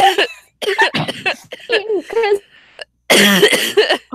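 Several loud, close coughs in rapid bursts, separated by brief pauses, followed by one longer harsh fit, with some voiced, laugh-like sounds mixed in.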